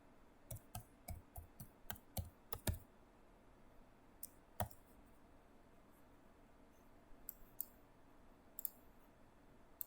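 Keys click on a laptop keyboard as a password is typed, a quick burst of sharp close taps followed by sparse isolated presses in a quiet room.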